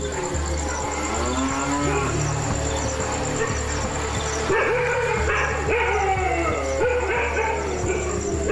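Village cattle near a national park low repeatedly in long, drawn-out moos, several overlapping calls up close, with dogs barking sharply in between.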